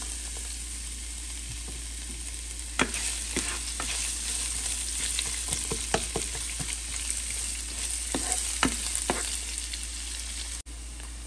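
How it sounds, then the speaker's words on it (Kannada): Finely chopped onion fries in a pan with a continuous bright sizzle and scattered crackles and stirring taps, moderately quiet and close, without any talking. "ಸಣ್ಣದಾಗಿ ಕಟ್ ಮಾಡಿರೋ ಒಂದು ದೊಡ್ಡ ಈರುಳ್ಳಿ ಹಾಕ್ತಾ ಇದ್ದೀನಿ"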